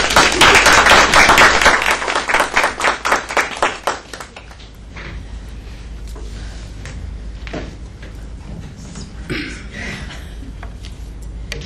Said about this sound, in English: we have to clap for that